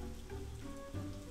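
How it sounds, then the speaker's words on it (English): Steady rain pattering in the Mimpi Dreams video game, a soft continuous wash of drops alone without speech. "And then I can get the rain going."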